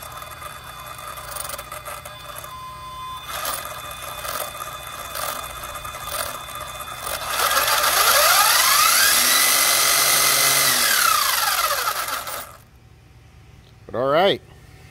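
An ARRMA Felony RC car with a sensored motor whines as it crawls slowly, its pitch rising and falling in smooth sweeps, louder near the middle, then stopping, followed by a brief squeak.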